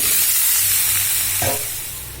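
Fried soybeans tipped into spice paste in a hot pan set off a loud steady sizzle and hiss, with a short stirring scrape partway through, close and without talk.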